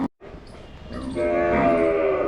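Cows moo loudly at a cowshed during milking, with one long, close, sustained low call that swells in the second half, preceded by a short thud.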